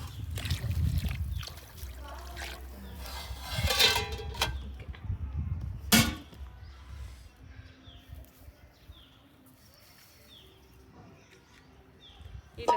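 Water is poured into a pot for chicken biryani cooked over an outdoor fire, giving short trickles and splashes among clatters, with quieter stretches and faint birdsong in the background.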